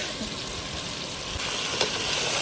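Raw chicken dropped into a hot pan of paste for haleem gives a steady, close sizzle and crackle, with a brief louder burst partway through.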